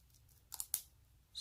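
Safety scissors snipping the tight shrink wrap on a PlayStation game case, two sharp crisp cuts close together, followed by a faint crinkle of plastic, with quiet surroundings.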